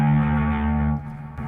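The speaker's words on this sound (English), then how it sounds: "And then obviously wah with distortion." Electric guitar played through a wah pedal with distortion, a thick, sustained overdriven chord ringing loud and close before it cuts and fades into a brief quieter tail.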